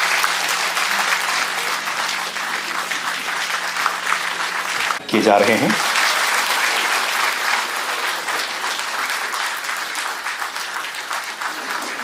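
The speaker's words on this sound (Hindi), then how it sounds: "बहुत ही जोरदार तालियां होनी चाहिए देवी सज्जनों।" Loud, continuous applause from the audience at a seminar inauguration on the environment attended by a chief minister; dense clapping runs throughout with a brief dip midway, while someone speaks over it in Hindi.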